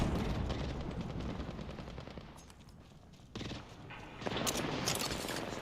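Hip-fired automatic weapon bursts in Apex Legends rattle out rapidly and loudly, easing to a brief lull before heavy firing resumes.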